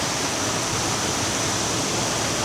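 A tall waterfall tumbles in stages down a rock face, producing a steady, dense, full-bodied roar of rushing water that never lets up, heard alone with no voices.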